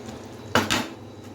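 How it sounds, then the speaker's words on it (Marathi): Metal lid set back onto a pan of stuffed brinjal (bharli vangi) on the stove, two quick clinks close together, close and moderately loud over faint kitchen background. "चला आता परत त्याच्यावरती झाकण ठेवूया।"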